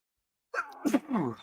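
A single sharp sneeze from a man in a sports talk setting, sudden and close after brief silence, followed by a breathy trailing sound.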